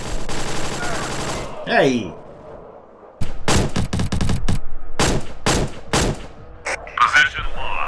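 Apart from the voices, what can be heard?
gunfire from a weapon in the VR game War Dust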